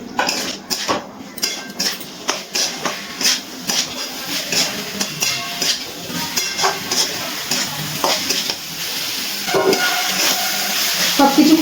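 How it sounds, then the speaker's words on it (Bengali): Spices and boiled potatoes stirred and fried in a pan for a home-style curry served with naan puri, with steady sizzling under repeated scraping and clinking of a spoon against the pan, close and fairly loud. "ভালো করে আরও একবার সব কিছু নাড়াচাড়া করে নিচ্ছি।"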